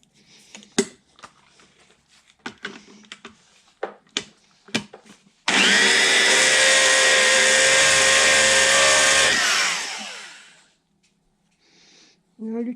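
A new valve for a Stickney 7HP stationary hit-miss engine being ground on a stone, with loud, steady grinding whine lasting several seconds and then spinning down, preceded by clicks and handling noises amid talk.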